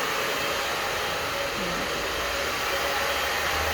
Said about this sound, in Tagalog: binablower mo yung hair mo